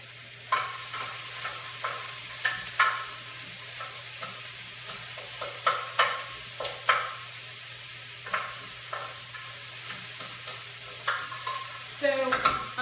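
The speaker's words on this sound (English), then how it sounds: "So I'm letting my veggies saute up a little bit, and over pretty high heat" Vegetables sautéing over high heat for a slow cooker posole, a soft sizzle under repeated sharp scrapes and taps of a utensil against the pan at an irregular rhythm, close and fairly quiet.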